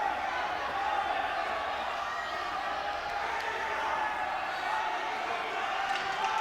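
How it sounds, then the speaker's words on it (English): Gym crowd cheering from both sides during a 285 weight class high school wrestling match between North Penn and Souderton, a steady, dense roar of voices holding for the whole stretch. "Both sides of the gym are cheering"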